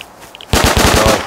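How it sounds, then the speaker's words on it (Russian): Automatic gunfire in the Rust video game bursts in suddenly after a near-silent moment, a loud rapid string of shots close by, with no talking. "Вот он, справа сразу, по мне стреляет."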